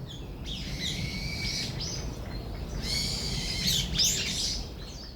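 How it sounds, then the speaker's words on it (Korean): Resident winter birds call in Gotjawal forest on Jeju, with several chirps and squawking calls in bursts over a steady background hiss, fairly close and clear, no talking. "겨울 이제 텃새들만 남아서 겨울을 준비하는 소리들이 곶자왈 안에 나곤 합니다."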